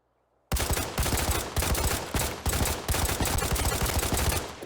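Sustained rapid gunfire from a Mini 14 semi-automatic rifle in the Arena Breakout video game, shots fired in fast bursts with brief pauses, loud and close.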